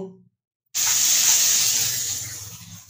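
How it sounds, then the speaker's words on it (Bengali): Potatoes dropped into hot mustard oil tempered with nigella seeds: after a brief silence a sudden loud, close sizzle bursts out and holds as a steady bright hiss, slowly easing in strength. "সর্ষের তেলে কালো জিরে ফোড়ন দিয়ে তারপরে আলুটা ফ্রাই করতে বসিয়ে দিয়েছি"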